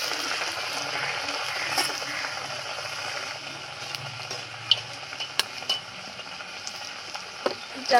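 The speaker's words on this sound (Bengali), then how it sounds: "এবারে মোচার ফিঙাটা ভেজে নেব এইভাবেই" Banana flower fingers deep-frying in hot oil give a steady close hiss and sizzle, with a few sharp utensil clicks near the end.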